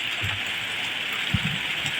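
Heavy rain intensifies outdoors, a dense loud hiss of downpour with scattered low thumps and splashes of drops hitting surfaces, steady throughout with no voices.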